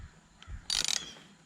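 A ratchet wrench gives a short burst of quick clicks, close and fairly quiet, while a part is being fitted into a gas tank.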